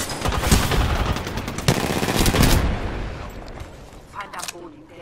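Rapid, loud gunfire from being shot at in Apex Legends, with dense overlapping bursts for about three seconds before thinning into scattered shots, with a voice faintly underneath.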